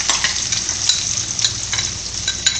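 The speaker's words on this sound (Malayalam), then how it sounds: "എണ്ണ നന്നായിട്ട് ചൂടായിട്ട് വന്നിട്ടുണ്ട് ഇതിന് അതിലേക്ക് നമുക്ക് ബീഫ് ഇട്ട് കൊടുക്കാം" Beef frying in hot oil for Kerala beef ularthu gives a loud, continuous sizzle with crackling pops and spatters, close up and with no voices.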